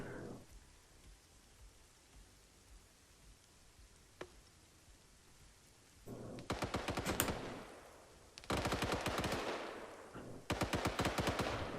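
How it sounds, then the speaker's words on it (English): Light machine gun fire in a large video game PvP battle, tracers streaking between mountains: three loud, rapid bursts in the second half, each a dense crackling rattle, over a steady rain-like background hiss. "Light machine gun fire tracers going from mountain to mountain."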